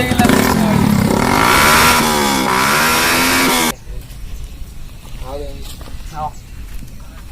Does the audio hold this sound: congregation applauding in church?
no